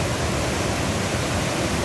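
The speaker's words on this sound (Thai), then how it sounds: "นี่คือน้ำตกเกล็ดสาวน้อย" The waterfall at Chet Sao Noi National Park, running with murky reddish water, gives a steady, dense rushing roar, loud and close, with no voices over it.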